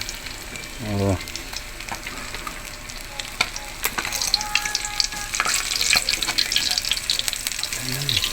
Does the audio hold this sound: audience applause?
no